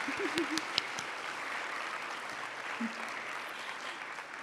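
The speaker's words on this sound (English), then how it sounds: "You can clap for them." Audience applause for school board members seated in the front row at a virtual school graduation ceremony, a steady wash of clapping from a hall crowd, moderately distant, with a couple of brief voices mixed in.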